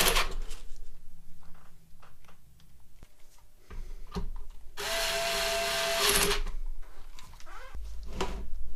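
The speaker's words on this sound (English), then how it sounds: "I will secure it with a cordless drill." A cordless drill drives screws into an amplifier chassis being assembled. Clicks and handling knocks lead into one loud whirring burst of about a second and a half, followed by more taps and rattles.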